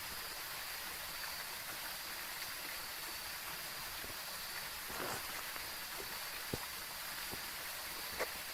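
Steady heavy rain pours in the ghost-hunting game Phasmophobia, a dense continuous hiss with a few sharper drips and knocks standing out now and then.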